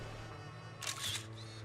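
Camera shutter click in the video game Zenless Zone Zero, a single quiet snap followed by a softer mechanical tail, alone over a low background hum.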